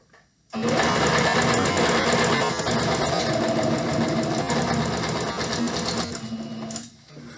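A sewing machine stitches a fabric seam for a pillowcase, starting abruptly and running as a loud, rapid mechanical whir for several seconds with a brief change for the backstitch before stopping.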